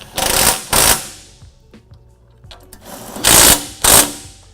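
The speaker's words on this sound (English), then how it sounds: "grab the impact and just tighten them down" Impact wrench tightening bolts during a basic service, with four loud, close bursts in two pairs of rapid hammering rattles separated by a quieter pause.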